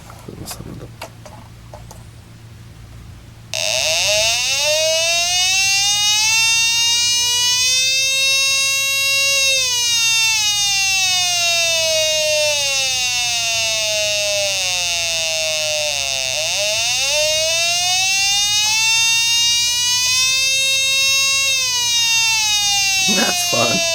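An electric siren built from a soldered hobby kit wails loudly and steadily, its pitch sweeping up and down in long rising and falling cycles after a brief quiet start, with a faint voice early on.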